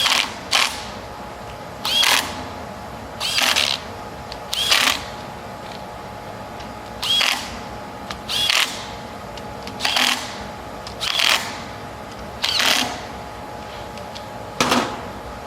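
Bolts being tightened in a crisscross pattern on an XJ build: about a dozen short bursts of ratcheting clicks, evenly spaced with quiet gaps, close to the listener, with no talking.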